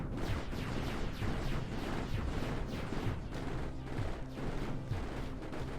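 Directional fighter-jet units firing in the sci-fi strategy game Mindustry, with a dense, continuous barrage of rapid gunfire and thudding impacts at steady loudness throughout, with no speech.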